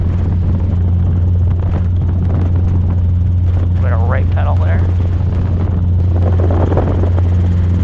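A Robinson R22 helicopter drones loudly and constantly in flight, its steady rotor and engine hum filling the cabin while an instructor and radio voices talk over it.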